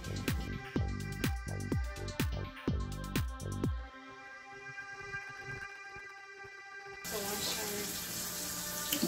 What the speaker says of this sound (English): She got the water going, so she's gonna go ahead and wash off our fruit.